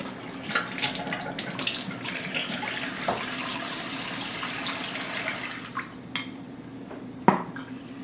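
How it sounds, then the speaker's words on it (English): Tap water runs steadily from a kitchen faucet into a sink, a constant close splashing stream with a few clinks of dishes and one sharp knock near the end. "this is water from the faucet"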